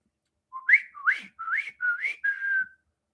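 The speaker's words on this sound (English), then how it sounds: "Trying to whistle." A person whistles five short rising notes, each a quick upward slide, ending on a longer steady tone, close and clear with no talking around it.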